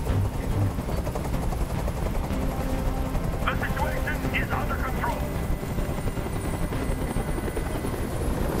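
Helicopter hovering overhead in the video game Detroit: Become Human during a rooftop hostage scene: a constant loud rotor drone under a voice, with a brief cluster of sharp bursts midway.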